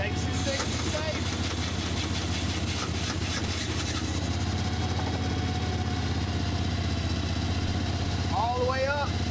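A plumbing sewer jetter's engine idles close by in a steady, low, throbbing drone that holds unchanged throughout, with faint mechanical chirps near the end.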